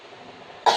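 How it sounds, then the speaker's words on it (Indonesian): A patient gives one short, sharp cough during chest physiotherapy, coming abruptly at the end after a moment of quiet room tone. "batukan."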